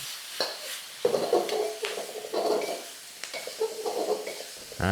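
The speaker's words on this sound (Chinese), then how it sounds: "这个青葱也跟它丢下去，然后大火爆炒几下就可以上菜了" Quick scraping stirs and clatters as prawns with soy sauce, butter and spring onion stir-fry on high heat, bursts of sizzling between strokes, close and fairly loud with no talking.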